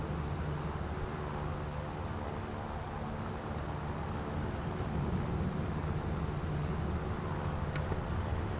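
A Lavochkin LaGG-3 fighter's piston engine drones in the War Thunder game, a steady, loud, continuous hum with no talking over it.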